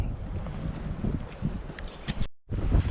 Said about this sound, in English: the wind is terrible right now